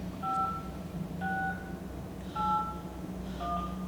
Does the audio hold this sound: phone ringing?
yes